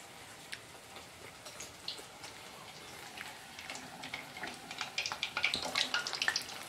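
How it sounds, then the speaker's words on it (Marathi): Sabudana vadas deep-frying in oil over a low-medium flame, a steady crackling sizzle with scattered pops that grows louder and busier toward the end, with no voices. "म्हणजे वडे जे आहेत ते आतमध्ये चांगले तळले जातात"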